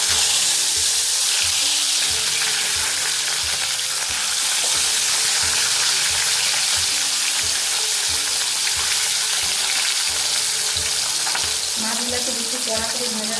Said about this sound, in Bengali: তেলটা কিন্তু গরম হয়ে গেছে। এবারে এতে আমি মাছগুলো দিয়ে দেবো।